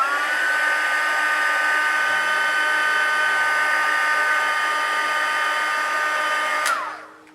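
A hair dryer runs continuously with a steady high whine while it heat-sets blush makeup. It is loud and alone, then switches off near the end and winds down quickly.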